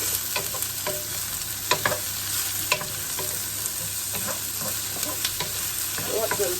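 Red peppers fry in garlic-ginger chili oil with a steady bright sizzle, and irregular stirring clatters and scrapes in the pan sound close up.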